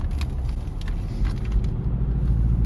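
A 2024 Toyota Tacoma SR with a manual transmission driving in third gear on a cold day, a low steady engine rumble with road noise, close and continuous, with no talking.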